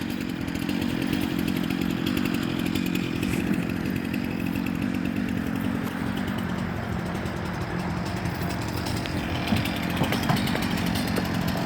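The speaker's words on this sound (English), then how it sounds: "set your chainsaw up there and just slowly cut it all to fit" A chainsaw runs continuously at close range for the whole stretch, its engine droning steadily as it cuts firewood on a processing rack at a campground, with no talking.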